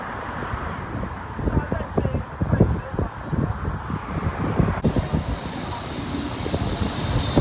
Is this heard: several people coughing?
no